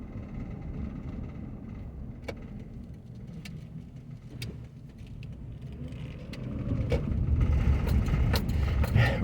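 A car driving down Faulkner Street in Anderson, Indiana, steady low engine and tyre rumble from inside, with a few small clicks and a swell as it picks up speed near the end.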